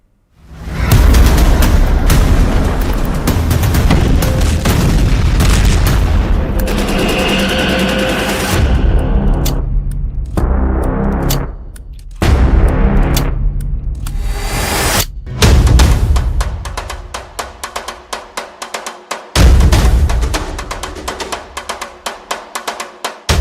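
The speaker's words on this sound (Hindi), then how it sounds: "बम बरस रहे हैं।" Loud, heavy booms and rumbling blasts in war footage of bombs and artillery fire, arriving in long roaring bursts separated by brief gaps and sharper cracks toward the end.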